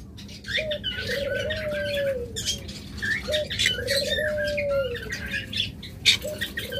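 Caged lovebirds and budgerigars at a bird sale chirp in busy, overlapping bursts, with a repeated dove-like cooing call rising through the chatter at close range.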